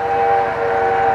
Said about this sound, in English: An unusual shot of a steam train crossing a highway in Durango, Colorado.